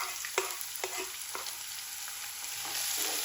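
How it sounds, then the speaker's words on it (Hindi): Chopped onion frying in a pan for Arabian chicken mandi, a steady close sizzle with a few sharp stirring clicks and scrapes, rising slightly toward the end. "इनको थोड़ा सा फ्राई कर लेंगे।"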